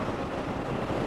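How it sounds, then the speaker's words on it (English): River rushing in full flow in Colombia, heard from a motorcycle trip, a dense steady roar of water mixed with wind buffeting, continuous and close with no talk. "The river in full power."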